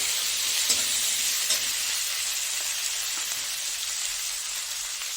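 A pan of vegetables fries for a light fish curry, giving a steady, moderately loud sizzling hiss with a couple of faint clinks and no voices.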